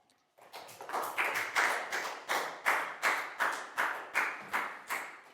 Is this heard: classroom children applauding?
yes